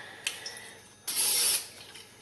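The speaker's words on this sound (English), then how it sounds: "spray your hands just a little bit so that you can work with them" A short hiss of cooking spray hits hands before dough is shaped, one brief close burst following a faint tiny puff, in an otherwise quiet kitchen.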